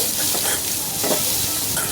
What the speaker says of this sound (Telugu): ఉల్లిపాయ ముక్కలు తురుముకున్న క్యారెట్ వేసుకున్నాను వేసుకొని ఒక్క నిమిషం పాటు మగ్గించుకొని